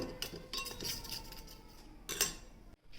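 A spoon stirring cornflour into milk for spinach soup, quick scraping and light clinks against a bowl in bursts, close and without talk.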